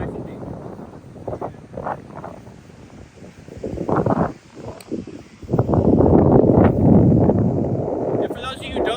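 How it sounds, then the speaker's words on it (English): Gusty wind buffets the microphone with low rumbling bursts that swell louder in the second half, with a voice speaking underneath. "it's actually windy down here now"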